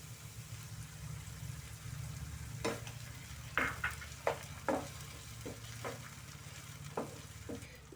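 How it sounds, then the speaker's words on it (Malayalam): Tomato puree sizzles with softened onions in a pan for mushroom masala, a steady close frying hiss broken by several sharp stirring scrapes, with no talking. "ഈ സമയത്ത് ഇപ്പം നമ്മുടെ ടൊമാറ്റോ അരച്ചത് നമുക്കിതിലേക്ക് ഒഴിച്ചു കൊടുക്കാം"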